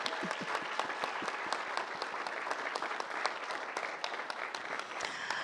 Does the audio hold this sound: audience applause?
yes